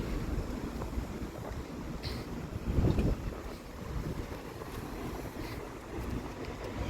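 Steady wind buffeting the microphone with a low rumble, continuous throughout, with a brief louder gust near the middle.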